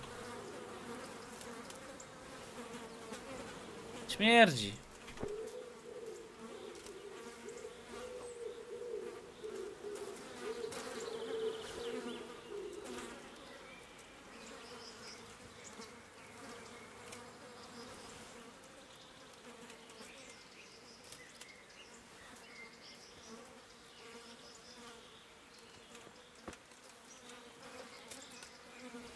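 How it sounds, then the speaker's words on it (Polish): Insects buzzing in Kingdom Come Deliverance, with a loud fly zipping close past early on, then a steady low drone of bees and flies hovering nearby, with one short spoken word. "Muchy jakieś tam, pszczoły, coś tam lata."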